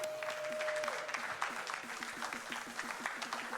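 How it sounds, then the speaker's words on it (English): A crowd at a Summer Games Done Quick 2025 charity speedrun event applauds, a sustained wash of clapping under a steady rhythmic game-music beat, moderately loud and continuous. "Give yourselves a round of applause."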